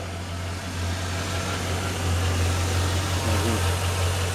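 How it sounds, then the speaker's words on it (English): A high-mileage Chevrolet Silverado pickup engine idles steadily with a low, constant hum and a faint lifter tick, close and alone with no talk. "the engine's still got the same lifter tick in it that it's always had"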